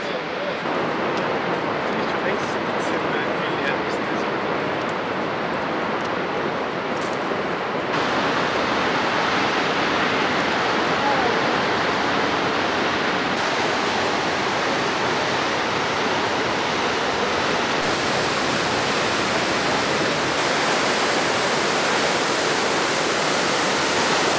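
The Ouzoud waterfalls in Morocco roar in a steady, dense rush of white noise that fills the whole stretch, loud and close, with no pauses.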